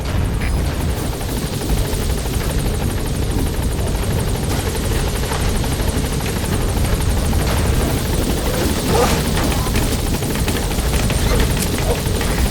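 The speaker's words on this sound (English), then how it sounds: "Alright, the chopper's touching down." A loud, steady helicopter rotor drone from Metal Gear Solid V: The Phantom Pain as the chopper touches down, with a heavy low rumble that never lets up, fairly close, with faint mechanical clatter mixed in.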